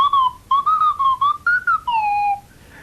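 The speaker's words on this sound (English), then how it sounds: "we played it into a microphone on Swanee whistles" A swanee whistle slides through a run of short, sliding tones, several quick pitch bends and then a long falling glide, loud and close with no talk.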